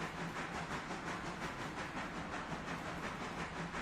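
A consolidation steam locomotive running in the train game Railroader, a steady rushing hiss with faint rhythmic chuffing throughout, moderately quiet and unbroken.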